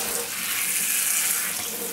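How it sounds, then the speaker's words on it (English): Shower water beating down in one spot during a pet monkey's bath, a steady close hiss of spraying water lasting about two seconds, with no voices. "Boo prefers just the water beating down in one spot with that."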